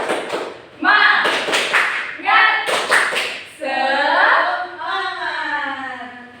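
A school class does a rhythmic spirit clap with group chanting, a few sharp clap bursts mixed with children's voices calling out together, close and loud.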